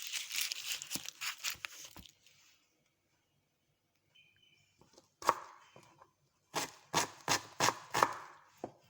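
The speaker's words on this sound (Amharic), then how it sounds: "ሽንኩርት እየከተፍኩ ነው።" Knife chopping onions on a cutting board in a home kitchen, quick rhythmic bursts of close, crisp chops separated by a short quiet pause, then another fast series of sharp cuts.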